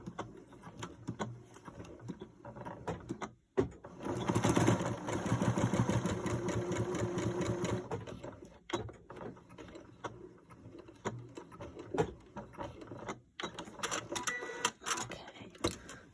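A sewing machine stitches quilt binding strips together, its motor whirring in a quick even rhythm through a few runs of several seconds, broken by short pauses and faint clicks from handling the fabric, with no voices.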